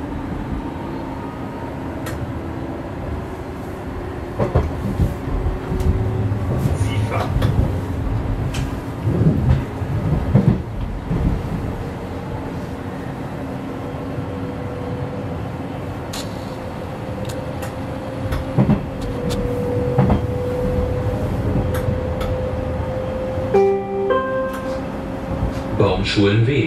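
A Berlin S-Bahn class 484 train runs along line S47, with a steady close rumble of wheels and motors throughout, occasional louder clanks and a brief tonal chime near the end.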